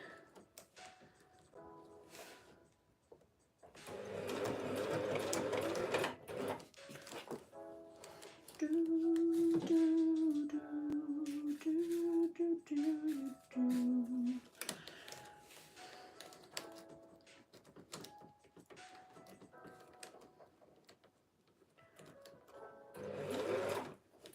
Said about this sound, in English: This fabric at least is easier to sew through than the neoprene.